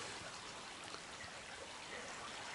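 A stream flowing over rocks on a spring hike, a steady, even wash of rushing water that fills the whole moment, soft and continuous with no pauses or voices.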